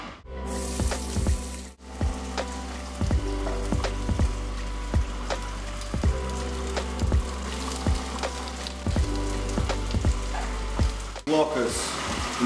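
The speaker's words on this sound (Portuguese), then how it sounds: "Metemos um pouco de azeite, colocamos o alho e damos uma leve fritura no alho." Garlic, carrots and onions sizzle steadily in olive oil in a pan, a continuous close frying hiss punctuated by repeated sharp clinks of a utensil stirring against the pan.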